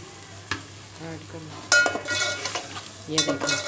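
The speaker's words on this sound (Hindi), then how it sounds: "ये देखो पानी ऐड किया" Water is added to masala frying in a pan, a loud sizzle bursting up twice over a short stretch of stirring, with spoon scrapes close by and no voices.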